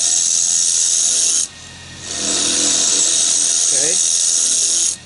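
A hand tool shear-cuts a wooden medallion, a loud close rasping scrape that stops briefly, resumes and holds steadily, then cuts off at the end.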